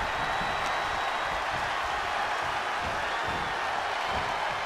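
A WWE 2K24 wrestling arena crowd gives off a continuous roar of cheering, a dense and steady wash of noise with no break.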